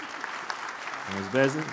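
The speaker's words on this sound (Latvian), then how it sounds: "Un visbeidzot, pēdējais paraksts un aplausi Ozolas kundzei." An audience at the AC/DC Tech 2024 forum in Latvia applauds after the final signature on a cooperation memorandum on electricity and heat supply; the clapping is fairly faint and steady beneath a speaking voice.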